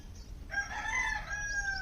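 A rooster crows at noon, a single drawn-out crow that sounds somewhat distant and soft against low background rumble.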